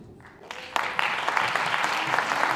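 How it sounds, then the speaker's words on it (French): Audience applause for a speaker at a civic pitch event, beginning with a few scattered claps then swelling into steady, fairly close clapping that continues to the end. "On applaudit M. Vaillant."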